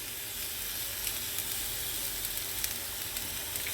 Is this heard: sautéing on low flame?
yes